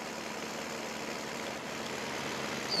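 Tractor engine idling in the video game Farming Simulator 19, a steady low mechanical drone with a constant hum and no breaks, moderately quiet throughout.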